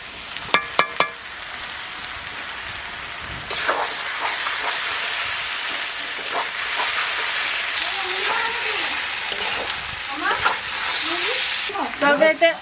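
Chilies frying and being stirred in a pan over a wood-fired village stove, a loud steady sizzle starting a few seconds in, with scraping stirs throughout and a few sharp knocks at the start and end; a voice speaks faintly underneath.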